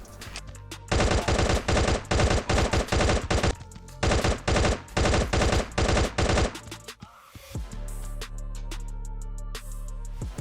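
Rapid bursts of assault rifle fire from the mobile shooter Guns of Boom ring out loud and close in several long automatic strings, then give way to a quieter, noisier stretch of game sound without speech.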